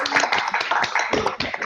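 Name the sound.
audience clapping over video call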